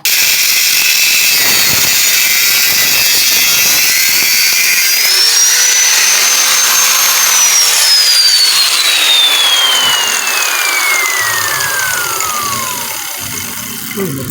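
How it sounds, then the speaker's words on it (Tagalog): An angle grinder cuts into a broken submersible pump, giving a loud, continuous metallic scream whose pitch rises and then slowly falls as the disc bites. The cut stays harsh and steady with no talk over it. "Grinder na lang po natin mga ka-junk shop to para mabilis."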